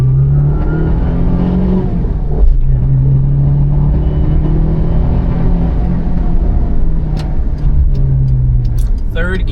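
A Daihatsu Move accelerates hard in second gear with a hood scoop, its engine note rising steadily and loud from inside the cabin while a person talks over it.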